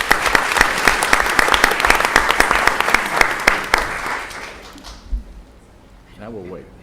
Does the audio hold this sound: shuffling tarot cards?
no